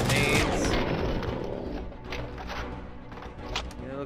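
Turret gunfire rattles in RoboCop: Rogue City, a dense, loud burst of rapid shots that opens the clip. It fades into scattered, fainter shots and mechanical clatter.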